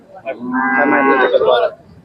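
A Khillar cow moos once at a cattle sale, a long, loud, drawn-out bellow lasting over a second, close by and with no talking over it.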